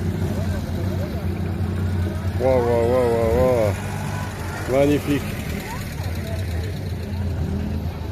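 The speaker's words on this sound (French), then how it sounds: "regardez-moi ces belles voitures qui arrivent" Cars from a local club pull in at a charity gathering of motorhome owners, their engines a steady low rumble throughout while nearby people exclaim and talk over it.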